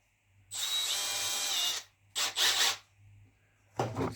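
A power drill with a sanding disc whirs in three close bursts, a long run followed by two shorter ones, with brief quiet gaps between.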